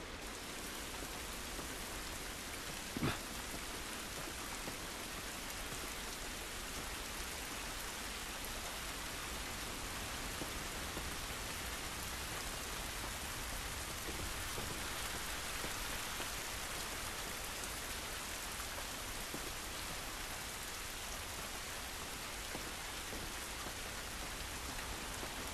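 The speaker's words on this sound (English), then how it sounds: "This rain ain't gonna do us any good." Rain falls steadily outdoors in The Last of Us, a dense, even hiss of drops on the ground that carries on unbroken, with one faint knock early on and no voices.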